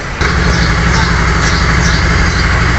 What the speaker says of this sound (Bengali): গাড়িটার ইঞ্জিনটার সাউন্ডটা দেখো